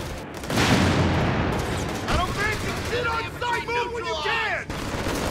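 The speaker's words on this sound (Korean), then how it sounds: "제로거리 포격." Point-blank artillery fire in the World War II strategy game Company of Heroes 3 during an avalanche-themed operation: a heavy blast and rumbling battle noise carry throughout, and someone speaks over the second half of the fighting.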